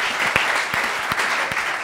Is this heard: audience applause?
yes